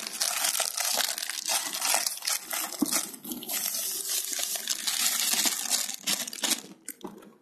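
Fishing groundbait being kneaded by hand for carp fishing, a close, continuous wet crunching and squishing with crinkly grit, steady throughout and ending in a few sharper squelches.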